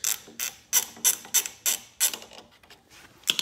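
A hand ratchet clicks in quick bursts, about seven distinct close strokes followed by a few softer ones, while loosening a bolt on a pressure washer near the carburetor and air filter.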